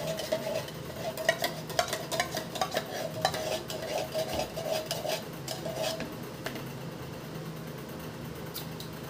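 A spoon stirs coffee jelly with milk and coffee in a cup or pot, giving steady close scraping and clinking strokes in quick rhythm that ease off after several seconds.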